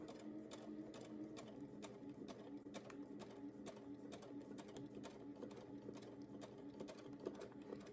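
A sewing machine stitches fabric with a fast, even mechanical patter, running continuously and quietly at close range with no talking.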